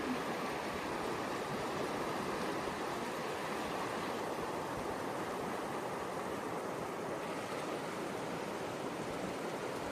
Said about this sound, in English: The water's picking up speed again.